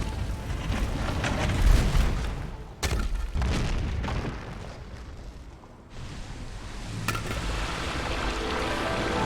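Fireworks exploding all around in the video game Ori and the Blind Forest: a continuous low, rumbling roar of booming blasts, punctuated by a couple of sharp, sudden cracks.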